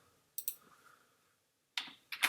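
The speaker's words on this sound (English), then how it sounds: "I'll use the keyboard shortcut to build that one." A few sharp key clicks from a computer keyboard shortcut being pressed, isolated taps close up separated by brief silence.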